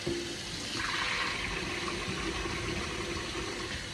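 Water rushing steadily over cleaned chitlins being rinsed, a continuous close splashing flow with no voices.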